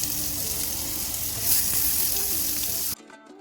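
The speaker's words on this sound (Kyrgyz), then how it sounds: "Буларды азыр шорпого кууруп баштадык." Chopped onions and vegetables frying in hot oil for a stuffed pepper dish, a loud, close, steady sizzle that swells briefly before cutting off abruptly near the end.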